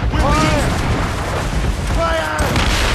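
Ship mortars booming from a sailing vessel in Assassin's Creed Rogue, with dense, continuous low rumble of naval cannon fire and crashing water under excited shouting voices.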